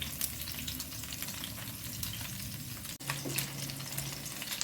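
Chicken drumsticks frying in a hot, well-preheated pan, a steady dense sizzle and crackle running throughout, with a brief dip where the pieces are turned before the hiss resumes at full strength.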